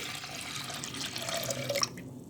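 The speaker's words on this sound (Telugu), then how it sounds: "ఇప్పుడు వాటర్ యాడ్ చేసుకున్నాం పప్పు ఉడికించుకోవడానికి" Water splashes from a tap into a pressure cooker holding washed toor dal, a short, fairly soft, continuous pour lasting about two seconds.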